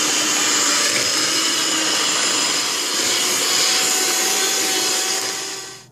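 An electric mixer beats eggs and vanilla into chocolate cookie dough with a steady, loud, continuous whir that holds nearly constant before trailing off at the very end.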